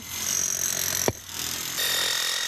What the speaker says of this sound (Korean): 드릴 소리와 망치 소리가 시끄럽게 뒤섞여 들린다